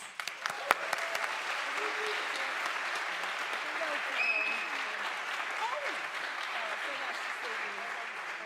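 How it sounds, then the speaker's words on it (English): A full room at an explorer awards evening claps for the nominees, producing a sustained wash of applause for about eight seconds, with one sharp louder clap early and faint voices beneath. "And a final round of applause for all of our nominees."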